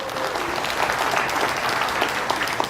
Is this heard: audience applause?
yes